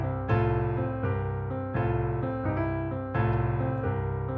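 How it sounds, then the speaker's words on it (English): Walking blues bass line on bass guitar in a traditional quarter-note feel, steady plucked notes stepping through the pattern with a warm, sustained low tone, played alone and close. "I'll go back to the traditional quarter note bass line and you do this."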